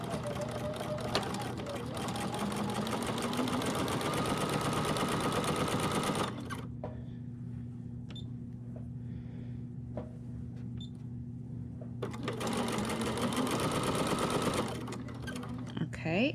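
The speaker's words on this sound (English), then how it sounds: "I'll just sew a diagonal line from corner to corner." A sewing machine stitches a diagonal seam across T-shirt quilt strips, running in a steady, close whir that pauses for several seconds and then resumes, with someone talking over it.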